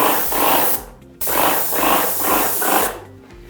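A Wagner 300W high-efficiency airless paint sprayer hisses out paint in loud, close bursts: a short spray, a brief pause, then a longer pulsing run of strokes, with no talking.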